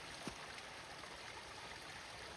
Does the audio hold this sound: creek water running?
yes